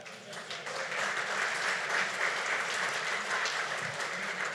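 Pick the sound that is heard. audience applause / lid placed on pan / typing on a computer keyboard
audience applause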